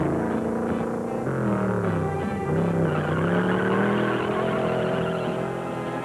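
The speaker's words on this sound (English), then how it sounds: "with enough wheel spin to lay a mile of rubber" A Studebaker Avanti launching hard off the line with wheel spin, engine note climbing in rising harmonic sweeps over steady tire noise, loud and close throughout with no talk.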